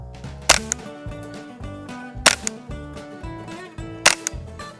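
An integrally suppressed Ruger 10/22 fires 45 grain suppressor loads three times at an even pace. Each shot is a short, muted snap, and a steady tonal hum runs underneath.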